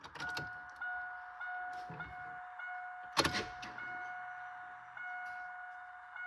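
Fuel pump priming on an LQ4 6.0 engine before cranking, a steady electric whine holding near and constant, broken by a few clicks and a clunk, with no voices.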